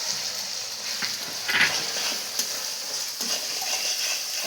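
Spice paste with Kashmiri chili being stir-fried in oil, a steady close sizzle with intermittent scraping stirs, no talking.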